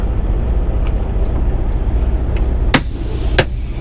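A truck engine idles steadily at close range, a low continuous rumble with two sharp clanks near the end, pulled up between two parked trucks at a truck stop.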